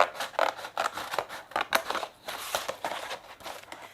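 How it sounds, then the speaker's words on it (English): Scissors snip through stiff card close by, a quick series of crisp cuts in an uneven rhythm. "this you can cut easily with scissors"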